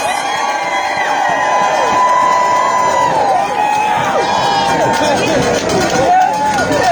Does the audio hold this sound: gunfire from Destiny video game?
no